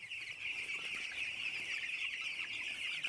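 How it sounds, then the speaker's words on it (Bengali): Close, continuous clucking and chirping from a sick hen with an eye problem, a steady high-pitched chatter with no talking. "এই দেখেন মুরগিটা"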